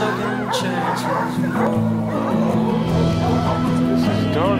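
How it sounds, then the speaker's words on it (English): Several puppies at a dog socialization session bark, yip and whimper in overlapping bursts, close and fairly loud, with higher squeaky cries mixed through the steady yapping. "This is dog socialization at its very best."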